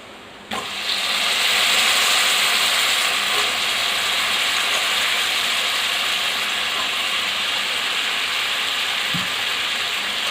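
Pieces of eggplant drop into a hot pan for vankaya curry and set off an abrupt, loud, steady hiss of sizzling oil that carries on without a break.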